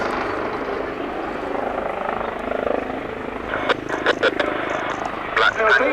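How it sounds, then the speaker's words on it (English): Two Royal Navy Leonardo Wildcat HMA2 helicopters accelerating through a crossing break at the Royal International Air Tattoo display, a loud, steady rotor and turbine roar with blade chop, under a voice talking. "accelerating in, ready for a crossing break, which concludes the display by the 2025 Royal Navy Wildcats."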